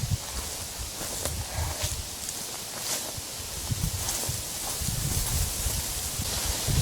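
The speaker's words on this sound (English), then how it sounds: "Much wind out in the open." Wind sweeps through open woods as a steady broadband rush, with rustling leaves and light gusts buffeting the microphone, plus occasional faint crunches that could be footsteps. No one speaks.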